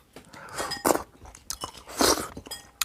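Clams eaten with kimchi, heard as close, wet crunching and chewing bites in irregular bursts, without talking.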